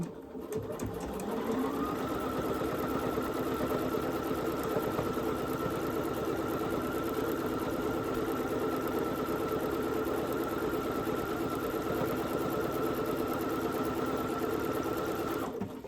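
Bernina sewing machine with dual feed and a quarter-inch foot stitching through many layers of blanket fabric, a loud, steady whir that starts up within the first second or two and runs continuously without talk.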